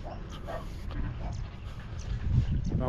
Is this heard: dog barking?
yes